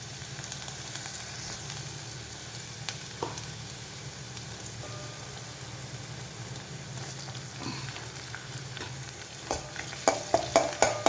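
Ginger and garlic sizzle steadily in hot oil for a carrot and bitter gourd pickle, with occasional stirring scrapes and a few sharper crackles and pops near the end and no talk.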